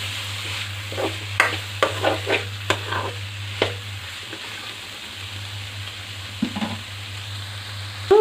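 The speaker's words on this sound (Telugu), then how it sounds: "కొత్తిమీర వేసి కలుపుకుందామండి" A spatula stirs bitter gourd curry in a pan after coriander is added, making a run of distinct scrapes and taps over a soft sizzle and a low steady hum, with no speech.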